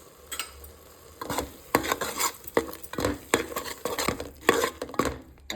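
Chicken curry with chilli, coriander and cumin powder is stirred in a pan, giving a rhythmic series of close spoon scrapes and clanks over a soft sizzle, with no voices.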